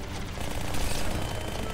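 Rapid automatic bursts from an SMG in Halo CE, a dense crackling stream of shots that merge into a continuous rattle, loud and close, mixed with the noisy game action.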